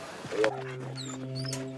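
A police search dog gives a sharp yelp followed by long, high whining tones that waver and hold, fairly close, against a faint outdoor background without speech.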